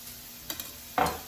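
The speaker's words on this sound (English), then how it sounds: "everything sizzling over here" A skillet of food for Southern cornbread dressing sizzles briefly, a couple of soft stirring scrapes, then a louder burst of frying hiss, close and with no talk.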